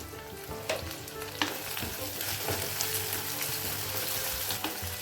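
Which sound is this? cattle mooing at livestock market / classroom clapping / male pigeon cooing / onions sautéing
onions sautéing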